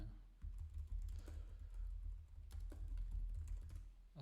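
Someone types a title on a computer keyboard: a quick, steady run of soft key clicks at close range, continuing without talk over a quiet room hum.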